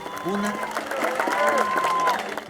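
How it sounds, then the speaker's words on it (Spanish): Applause and crowd noise at an earthquake rescue site in Cali, a scattered clapping under loud whistles and shouting voices that continues across the whole moment. "Los aplausos anuncian que un nuevo milagro se abre paso hacia la vida."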